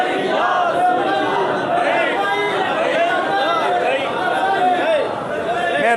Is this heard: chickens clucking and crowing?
no